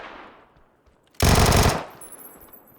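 A rapid burst of automatic gunfire rattles in PUBG for about half a second, loud and sharp against a quiet background, with no speech over it.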